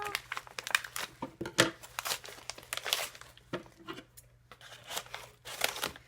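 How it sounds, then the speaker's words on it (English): A plastic package is cut open by hand, with bursts of crinkling and rustling plastic, some tearing and snipping, close and uneven across the whole stretch. "Okay, cut this one now."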